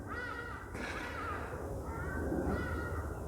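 A loud, harsh bird cawing nearby outdoors, two or three raspy repeated calls rising over a steady background hiss.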